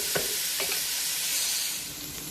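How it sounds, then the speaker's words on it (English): Chopped vegetables for a soffritto base of Bolognese sauce sauté on medium-high heat in a pan, a steady, close, loud sizzle with a few soft spoon stirs near the start. "So we're just going to stir on medium, slightly high for about 10 minutes"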